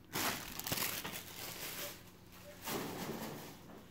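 Plastic packaging crinkles and rustles in short bursts while being gathered up after an unboxing, close and fairly loud with no talking.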